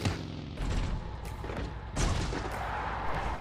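Enemy bot fire in a battle royale video game arrives as repeated booming shots, a burst around the middle and another near the end, over a rumbling vehicle and game background.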